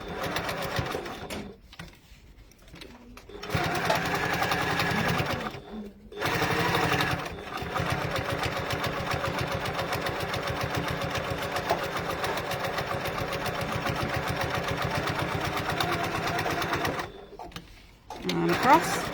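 A sewing machine runs in long steady bursts while top stitching fabric, a fast rattling drone broken by a few short pauses, close and loud.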